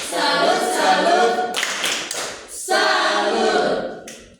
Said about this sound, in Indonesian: mari kita memberikan tepuk salut untuk dua kelompok yang telah berprestasi